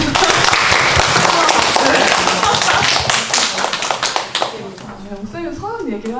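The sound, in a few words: audience clapping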